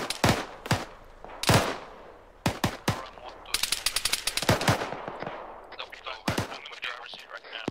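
Video game gunfire, a mix of single sharp shots and rapid bursts, loud and close, some tailing off into fainter distant cracks, with occasional quiet voice chatter.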